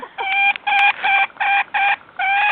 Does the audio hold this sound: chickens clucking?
yes